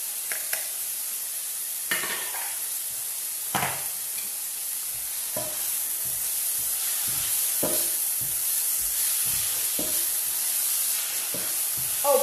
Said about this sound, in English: So I'm going to add onions, some garlic,